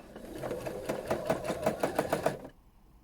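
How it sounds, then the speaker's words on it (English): Sewing machine running in short rapid bursts of stitching while quilting a small fill stitch from the centre of a quilt, loud and close, then stopping abruptly near the end. "Alright, so I'm going to start doing the quilting now."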